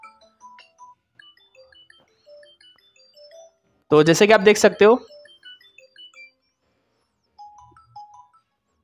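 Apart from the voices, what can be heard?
Xiaomi phone ringtone playing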